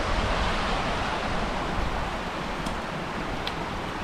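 Steady broadband rush of running water at a trail water source on the Appalachian Trail near Siler Bald in Nantahala National Forest, continuous and fairly close with no talk over it.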